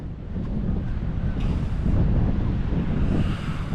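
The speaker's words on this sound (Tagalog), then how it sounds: "Kapag malakas katulad yan, malakas ang hangin" Strong wind roars steadily across open sea, buffeting the microphone in a loud, continuous rush with the wash of surf underneath and no voices.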